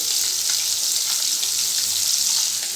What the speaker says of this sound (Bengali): এখন মাছগুলো ভেজে নিচ্ছি